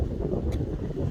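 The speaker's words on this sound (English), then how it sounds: "It might be a bit windy, so you might not be able to hear me too much." Steady wind buffeting the microphone, a loud low rumble that persists throughout with no voice.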